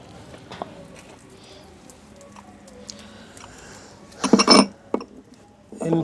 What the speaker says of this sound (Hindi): इन प्यालियों में हम इसको निकाल लेंगे।